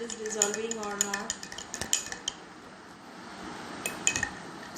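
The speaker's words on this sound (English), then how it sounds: "I am stirring it and trying to show whether it is dissolving or not." A spoon stirs a substance into water in a glass, giving light clinks against the glass and a gentle swirl of liquid, close and fairly quiet.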